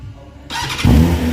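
A 2023 BMW S1000RR sport motorcycle engine catches and fires up abruptly, settling into a loud, steady idle rumble at close range.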